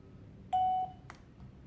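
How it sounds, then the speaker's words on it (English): Laser smart video doorbell ringer giving one short, clean electronic beep of about a third of a second, followed by a faint click, in a quiet room. "that short beep means it's now in pairing mode"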